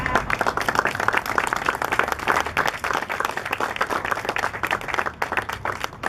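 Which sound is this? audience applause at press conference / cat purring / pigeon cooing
audience applause at press conference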